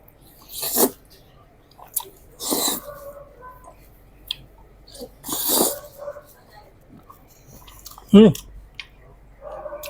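Carbonara pasta topped with bacon is chewed at a coffee shop in Baclaran. A few close, wet mouth bursts are spaced by quiet pauses, with one sharp click near the end.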